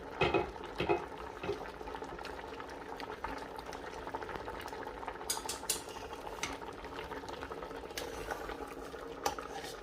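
Pork knuckle stewing in a pot with onion, carrot and wine bubbles in a continuous low simmer, with occasional light clinks and stirring noises nearby, no speech.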